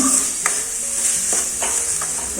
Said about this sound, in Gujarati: હજી આપણે બે મિનિટ આમ હલાવીએ એટલે એકદમ સરસ ગેંદા જેવો થઈ જાય